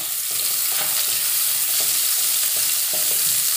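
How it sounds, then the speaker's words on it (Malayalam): Carrots sizzling loudly in a frying pan while being stirred, a dense continuous hiss up close with repeated soft scraping strokes of a spoon, no voices. "ഇതൊന്ന് ഇളക്കി യോജിപ്പിക്കാം"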